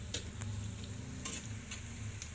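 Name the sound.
frying onion in hot oil, sizzling and stirring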